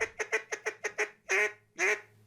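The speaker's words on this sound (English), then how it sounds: "For Dale Bordelon, when it comes to duck calls, louder isn't always better." A handmade wooden duck call, blown in a Cajun craftsman's shop, gives a quick series of seven short quacks followed by two longer, drawn-out calls, close and clear with no talking.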